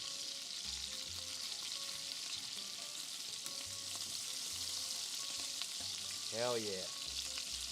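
Food searing in a hot pan gives a steady, broadband sizzle throughout, with low clatters of handling. Someone speaks briefly near the end.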